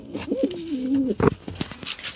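A pigeon's low, drawn-out cooing call, close and clear, followed by a few soft rustles.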